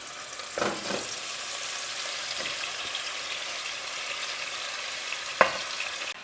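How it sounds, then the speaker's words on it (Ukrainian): Meat frying in a thin layer of hot oil in a pot: a steady, close hiss of sizzling runs throughout, with a few soft scrapes from stirring and one sharper clack near the end. "Прожарюю м'ясо до красивого золотистого цвіта"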